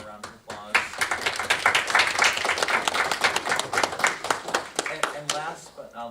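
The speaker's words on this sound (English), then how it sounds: "Can we give them a round of applause?" A town board meeting audience in Plattsburgh claps in a dense, steady round of applause. Sharp claps overlap continuously for several seconds, with a voice briefly audible underneath.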